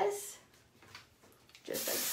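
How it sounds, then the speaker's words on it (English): Hair spray is misted onto hair while styling waves, with short close hissing bursts at the start and again near the end. "So then I'll just spray this"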